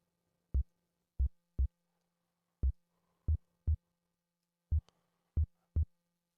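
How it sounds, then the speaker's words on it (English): Synthesized kick drum built in Reason's Thor from a pitched-down sine wave with no pitch envelope, giving nine dull, dead thumps in an uneven rhythm, each short and clean, with no other sound around them. "so now you hear like a dead kick"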